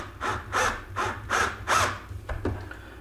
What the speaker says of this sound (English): you put your screw in there and just start screwing it in